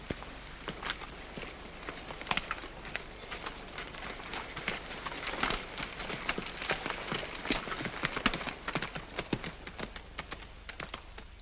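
Horses' hooves clip-clop in a rapid, uneven patter of many sharp strikes from several animals on the move, moderately close, in a 1937 Western film soundtrack, with faint background hiss.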